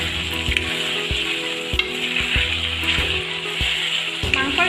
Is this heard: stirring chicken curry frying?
yes